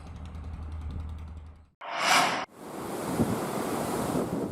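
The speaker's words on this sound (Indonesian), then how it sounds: "Ketinggian ombak mencapai lebih dari 3 meter, disertai angin kencang dan hujan deras." High ocean waves over three meters with strong wind and heavy rain at Merauke, South Papua, roaring steadily with a brief loud gusting surge in the middle and continuous wind-blown noise throughout.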